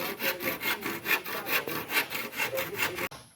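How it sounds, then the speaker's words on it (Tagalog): A handsaw cuts through wood in rapid rhythmic strokes, about a dozen rasping back-and-forth passes close by, ending abruptly. "Kuha lagari."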